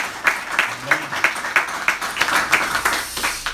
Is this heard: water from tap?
no